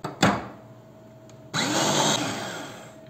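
A brief whir, then a loud food processor starts up and runs with a steady grinding roar, close by, blending banana peels with cornstarch.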